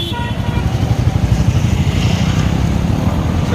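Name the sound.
motorcycles departing one by one from a bikers' rally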